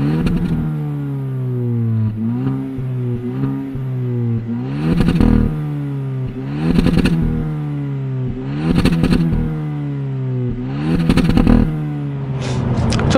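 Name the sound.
Hyundai Avante N Line exhaust sound heard from outside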